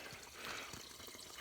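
Free spring water in St. George, Maine flowing steadily from a source into a jug, a quiet, continuous trickling and splashing that stays faint and even with no voices over it.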